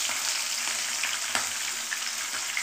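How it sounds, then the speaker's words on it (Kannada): Crushed garlic, eight to ten cloves, frying in hot oil in a pan with green chillies for onion gojju, a steady broadband sizzle with faint crackles throughout and a brief stir-like scrape partway, no talking. "ಬೆಳ್ಳುಳ್ಳಿನೂ ಹಾಕ್ತಾಯಿದ್ದೀನಿ."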